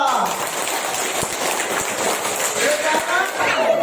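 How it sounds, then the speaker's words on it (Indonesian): Schoolchildren in a classroom clap for a classmate, a fast, scattered patter of small hands close by, mixed with voices. "Kasih tepuk tangan Dika."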